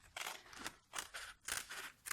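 Small scissors cutting through paper, four or five quick crisp snips in an uneven rhythm, close and quiet, with no voices.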